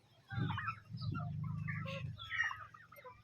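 Bisaya native chickens raised for roasting give low, throaty clucks and murmurs close by, a continuous burbling call with a few higher squawky notes on top.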